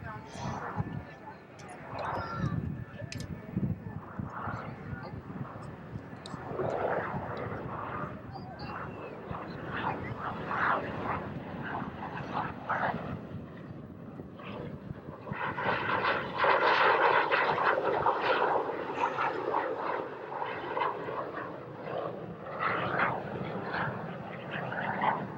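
A military jet lands at a 1991 air show at Barnes Air National Guard Base, its engine a broad, steady rumble and whine that swells louder in the second half, with a crowd murmuring underneath.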